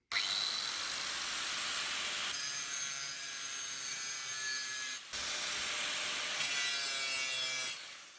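Angle grinder touched against stainless steel scrap, a saucepan and lids, for spark testing: a loud, sustained abrasive whine and scraping, broken by a brief pause midway before grinding resumes, with no talking.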